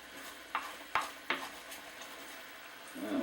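Occasional scraping strokes of a spoon stirring through a cooking pot with bacon, a few sharp scrapes spaced apart over a faint low simmer, close and fairly quiet.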